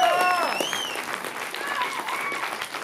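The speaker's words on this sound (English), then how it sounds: "Another round of applause for our band." An audience applauds for the band at a comedy show intro, a steady spread of clapping with a few whoops and whistle-like cheers rising over it early on.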